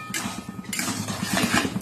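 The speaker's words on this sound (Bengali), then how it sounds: "তারপর একটু নেড়ে দেবে" Polao rice is stirred in a pot, producing a short, dense burst of scraping and rustling grains with faint metallic knocks against the pot, close up and continuous.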